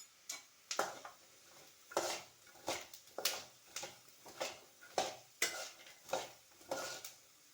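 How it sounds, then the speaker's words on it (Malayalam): Peanuts roasting in a pan with half a spoon of garam masala, stirred with a spoon in a steady series of about a dozen sharp scraping strokes, fairly quiet and close, with no talk. "അര സ്പൂൺ ഗരം മസാല ഇട്ട് ഇളക്കാം."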